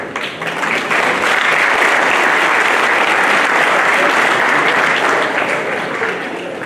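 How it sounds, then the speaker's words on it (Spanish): A fair audience at the Amatepec Expo Feria breaks into loud, sustained applause with many hands clapping at once, steady throughout before tapering slightly at the end. "Vamos a recibirlos con un fuerte aplauso"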